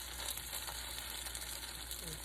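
Corn fritters, tortitas de elote, fry in hot oil in a pan, giving a steady, even crackling hiss that runs unbroken for a couple of seconds with no talk over it.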